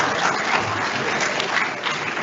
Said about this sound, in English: The reason why we are not clapping very well is because